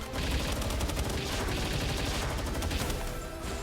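Rapid automatic gunfire in Palworld rattles in a fast, continuous stream of close shots, steady and loud for the whole stretch.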